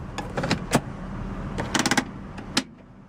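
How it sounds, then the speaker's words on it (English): Driver's side automatic power window on a 2007 Mitsubishi Galant 3.8 GTS, heard as a series of short, close motor whirs and clicks over faint cabin hum, with brief pauses between bursts. "Automatic driver's side window."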